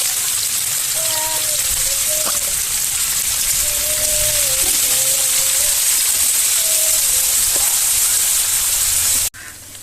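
Steady loud sizzling hiss of paneer frying in hot oil, continuous throughout with faint background tones, cutting off abruptly at the end.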